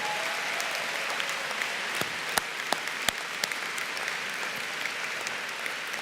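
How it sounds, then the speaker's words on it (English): A crowd at a law school commencement ceremony claps steadily and fairly loudly for several seconds, dense and continuous, with a few sharp individual claps standing out. "Can we have another round of applause for them,"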